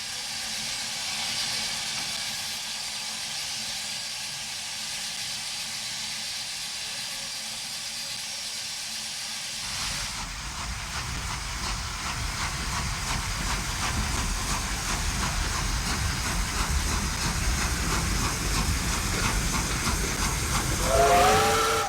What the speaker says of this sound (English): Getting ready to leave on a local passenger is one of the 141F class mixed traffic Mikados